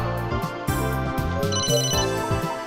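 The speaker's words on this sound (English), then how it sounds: "Someone's calling me." A telephone rings in the video game Emio The Smiling Man: a bright, repeating electronic ringtone melody with a steady rhythm, played clearly and alone.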